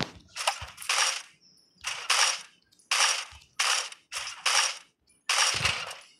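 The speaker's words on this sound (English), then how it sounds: "Shooting in front of me" Rapid bursts of gunfire from the Mr Fox face video game in classic solo mode, six or seven loud clusters of shots in quick rhythm with brief gaps, sharp and close, with no talking over them.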